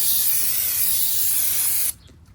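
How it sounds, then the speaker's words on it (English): A loud, steady hiss of aerosol brake cleaner sprayed onto a new brake rotor of a 2012 Acura TSX, held for about two seconds before cutting off abruptly into near quiet. "So they give you this spray here to spray your rotor down"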